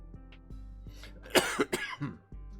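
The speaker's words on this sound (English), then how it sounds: "if this cough will hold off." A single cough from a sports commentator fighting a lingering cough during an eMLB winter league broadcast, one short burst and a follow-up in the middle of an otherwise quiet stretch, close and fairly loud.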